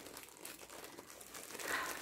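Scissors cut open a thin, flattened mailed package, giving a steady crinkling and crackling of plastic mailer material for about two seconds, close and fairly quiet with no talk.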